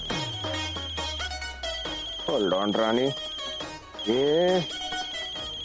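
A phone ringtone plays a repeating electronic melody over a steady high tone while someone talks over it and voices chime in briefly.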